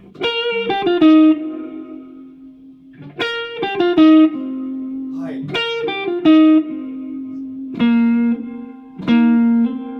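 Clean electric guitar played through a reverb effect pedal picks out bright notes that sustain and bloom with reverb tails, separated by short pauses.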